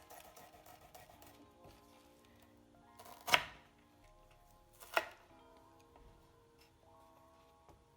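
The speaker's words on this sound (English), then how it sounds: "chop them in half first" A butter knife chops through food in half with two distinct, sharp cuts against a board, separated by a short pause, over a quiet background.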